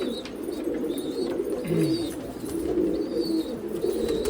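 Several pigeons in a loft coo repeatedly in low, rolling throaty calls, overlapping in a continuous murmur nearby, with faint higher chirps scattered above.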